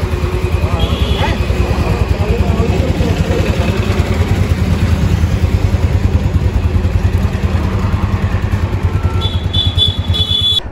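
A new Royal Enfield 350 motorcycle idling close by, its engine thumping in a steady, rapid, loud rhythm throughout, with a faint high electronic tone near the end.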